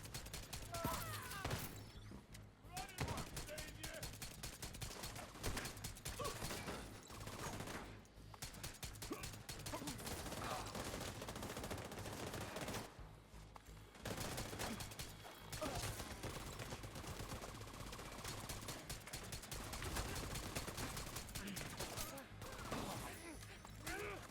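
Gunfire and mechanical clatter from The Division 2 shooter game, loud and nearly continuous with rattling bursts and metallic mechanism sounds, broken by a few short pauses.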